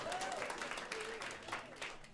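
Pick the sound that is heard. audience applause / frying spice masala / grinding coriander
audience applause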